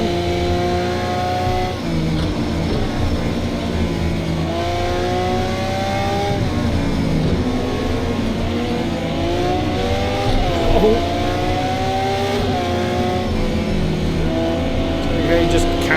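Supercar engine in a racing video game revving and drifting, a steady loud engine drone with shifting pitch and faint tire squeal throughout, with commentary talk over it.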